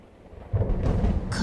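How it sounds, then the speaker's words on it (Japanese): Thunder in the video game Yakuza Kiwami: a low rumbling crack builds suddenly from quiet and rolls on briefly, close and heavy. "雷。"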